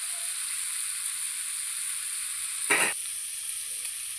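Fish fries in a pan on a stove, giving a steady, fairly quiet sizzle throughout, with one brief louder crackling burst near the end as the fish is turned.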